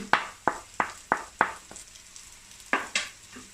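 Prawn masala being stirred in a heavy-bottomed uruli pan with chaat masala, kasuri methi, curry leaves and coriander, giving about eight sharp scraping strokes in an uneven rhythm over a soft sizzle, close and alone.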